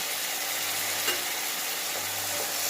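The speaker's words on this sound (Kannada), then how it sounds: "ಹುಣಸೆಹಣ್ಣಿನ ರಸ ಸ್ವಲ್ಪ ಫ್ರೈ ಮಾಡಿಕೊಂಡು ಬೆಲ್ಲ ಸ್ವಲ್ಪ ಕರಿದ ಮೇಲೆ" Tamarind juice and jaggery cooking in a hot pan for idli sambar, a continuous soft sizzle and bubbling close by, with a faint stir or two and no talking.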